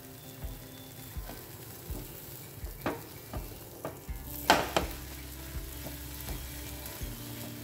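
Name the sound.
food frying in pan after being flipped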